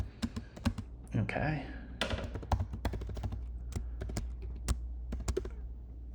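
Fast tapping on a computer keyboard during a programming lab session, bursts of crisp clicking keystrokes close by, with a voice speaking briefly in between.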